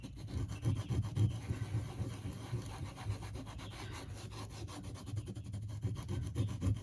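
Stropping compound worked by hand into a leather strop, a close, steady rubbing with repeated short scraping strokes throughout, no voices.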